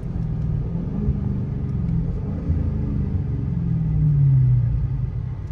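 A 2023 Dodge Challenger Scat Pack fitted with Dynomax Race Bullet mufflers rumbles deep and steady through its downshifts, the exhaust note swelling louder and rising in pitch near the end.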